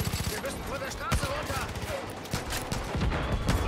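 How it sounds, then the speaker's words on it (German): Gunfire from a car in the video game Far Cry 5, bursts of rapid shots crackling through a busy, continuous game soundscape with people talking over it. "Oh, der schießt aus dem Auto raus."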